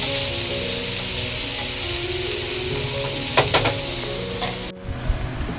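Spinach vegetable dish sizzling and being stirred in a pan, a steady loud frying hiss with a few scraping stirs near the end before the sizzle briefly cuts out.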